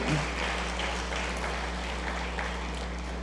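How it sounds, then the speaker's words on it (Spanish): A church congregation applauds for the Lord during a Spanish-language sermon, a soft, diffuse wash of clapping heard over a steady low hum. "Le podemos dar un fuerte aplauso al Señor."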